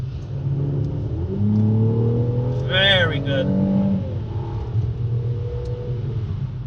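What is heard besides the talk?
sports car engine and exhaust revving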